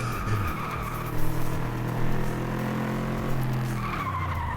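Race car in FlatOut 2 braking hard, tires skidding and squealing in a sustained loud screech over engine drone, with brief swells as the slide continues.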